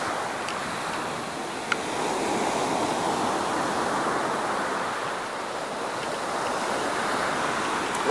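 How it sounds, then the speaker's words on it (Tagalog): Big ocean waves break on the shore at a tourist beach, a steady loud wash of surf rolling continuously with no voices over it. "Laki ng alon, no?"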